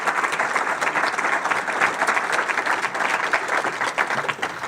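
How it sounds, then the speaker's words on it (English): Steady audience applause in a hall after school board candidates are introduced, dense even clapping from a sizable crowd lasting throughout without a break. "Let's give the candidates another round of applause."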